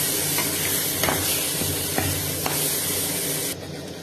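Paneer dish being stirred with salt in a hot pan, a steady sizzle with soft spoon scrapes and taps recurring every half second or so, close and continuous.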